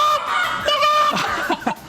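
A hen clucking in short, nasal, harmonic calls, several in quick succession over about two seconds, close and fairly loud with no talk over it.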